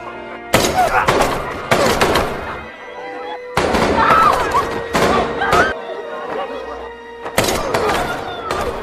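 Bursts of gunfire in a dramatic film scene, loud impacts and crackling volleys arriving in several separate clusters, mixed with shouting voices and score.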